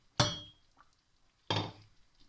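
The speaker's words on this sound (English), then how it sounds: "So what I do at this point is add the second half of the potatoes." A second batch of potato chunks tipped into a simmering pot of scouse lands as two separate clattering thuds about a second apart, each fading quickly into quiet.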